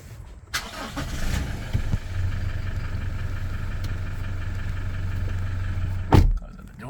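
A 2021 Toyota Hilux Rugged X push-button start: a door thud and brief crank, then the engine catches and settles into a steady close idle hum, with another sharp thud near the end.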